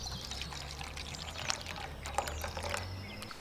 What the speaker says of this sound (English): Now for the beer. I'm using a low alcohol brew, which I'm drinking these days.